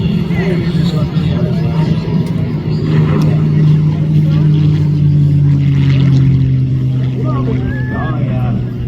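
A supercar races down a military air station runway during an air show, its engine roar building and sweeping past loud and fairly close, with crowd chatter and commentary running beneath it.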